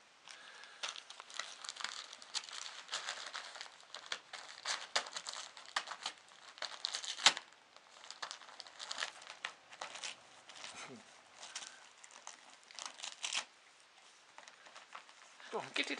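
Archie, a two-year-old Clumberdoodle dog, tears and crinkles birthday wrapping paper at close range in restless bursts of rustling and ripping, while a person talks encouragingly throughout.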